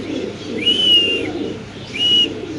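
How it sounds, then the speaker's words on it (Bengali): Feather-footed fancy pigeons in a crowded cage coo twice, each call distinct and moderately close against a low background murmur. "পায়ের ফেদার কবুতর সাইজ"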